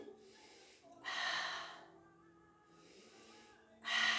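A person exercising draws slow, deliberate breaths, two clear inhales and exhales about three seconds apart, close and soft with quiet pauses between them.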